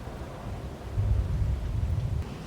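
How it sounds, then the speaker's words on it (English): Thunder during a severe thunderstorm in New Jersey: a deep, rumbling roll that swells about a second in and stays heavy before easing, under a steady wash of rain and wind noise, with no talk. "we got a line of storms that wasn't even supposed to develop or anything"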